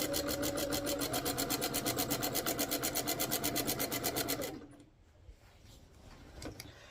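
Sewing machine quilting with a walking foot over a grid glider, running with a quick, even stitch-by-stitch pulse for several seconds before cutting off into quiet fabric rustles and a soft click.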